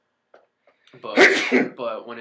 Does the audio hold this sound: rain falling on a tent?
no